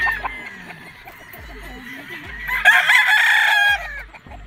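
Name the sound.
battle stag gamecocks crowing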